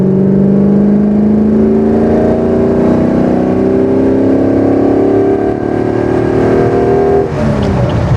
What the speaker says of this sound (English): But you could definitely hear it's a V8.